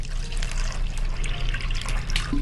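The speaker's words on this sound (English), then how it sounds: "Now we're going to pour some water in." Water pours steadily into a plastic baggie, a continuous close trickling splash with no talk.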